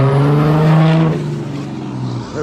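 A diesel car with a five-speed transmission rumbles loudly nearby, its engine note droning and then easing off as it moves past.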